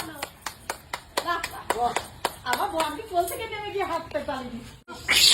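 Several sharp hand claps in a steady rhythm at the start, then louder talking voices with a few more scattered claps, recorded close and clear.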